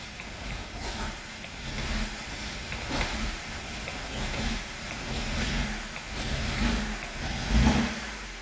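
A BMW E90 320i with a rough idle runs close by, a steady broad engine rumble with uneven pulsing that swells briefly as the accelerator is tapped several times, the loudest rise near the end.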